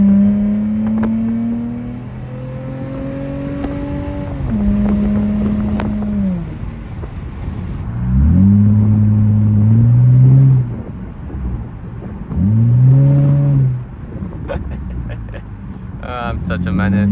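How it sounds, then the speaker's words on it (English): A Honda V6 in a 2004 Honda car revving hard into VTEC while driving, the engine note climbing and dropping through several loud pulls and gear changes, with wind noise and a brief stretch of quieter cruising. "Just let y'all hear the VTEC."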